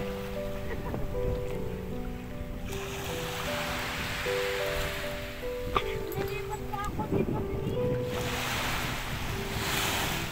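Motor bangka running at sea off Panganiban with waves, an engine drone and the rush of water and wind across the microphone, a moderate level throughout with occasional knocks.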